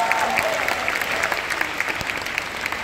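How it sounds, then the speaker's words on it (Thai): Steady applause from a business summit audience, many hands clapping in a dense, even wash with a few sharper individual claps standing out near the front. "ใครเห็นด้วยปรบมือหน่อยนะคะ"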